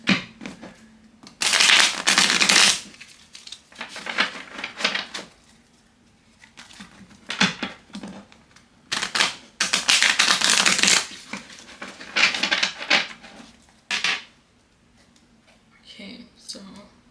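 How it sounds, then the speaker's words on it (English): Cards being riffled and shuffled in several bursts, crisp and close, with pauses between, and a person talking quietly in between shuffles. "it may take me a while to shuffle these"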